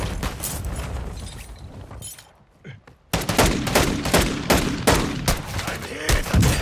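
Rapid bursts of video game gunfire crackle in heavy volleys, dropping briefly to a quieter lull before erupting again loud and close, shots stacking in quick automatic rattles.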